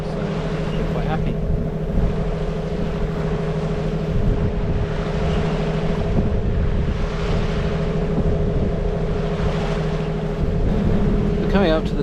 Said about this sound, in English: As you can probably hear, we had to turn the engine back on.